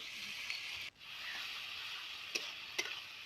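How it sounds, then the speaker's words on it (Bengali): Onion and chopped tomato fry in a pan, giving a soft, steady sizzle with a few brief stirring scrapes and clicks, close but fairly quiet, with no talk. "টমেটোটা কুচনো দিয়ে এবার পেঁয়াজের সাথে আবারও কিছুক্ষণ ভাজা ভাজা করবো"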